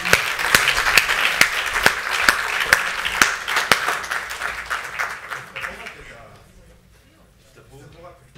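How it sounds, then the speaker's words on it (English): Audience applause at a 2018 awards and prizes ceremony: brisk clapping with distinct sharp claps for several seconds, then fading away as the room quiets and voices are heard. "so an extra round of applause,"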